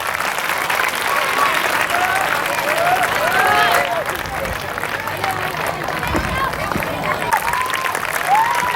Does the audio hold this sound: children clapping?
yes